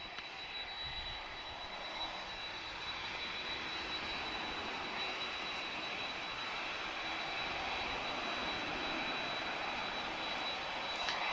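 Loud, steady roar of a Boeing 767 freighter's CF6 jet engines at Lisbon Airport, a broad continuous rushing noise with a thin high whine, sustained throughout.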